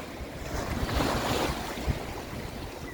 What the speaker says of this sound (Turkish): Tekne bu büyük dalgalara çıkınca aniden iniyor.